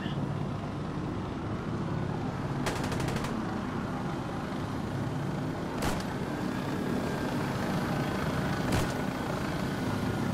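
A helicopter drones steadily overhead in the video game Insurgency: Sandstorm, a constant low rumble filling the scene, broken by a few sharp distant bursts of gunfire.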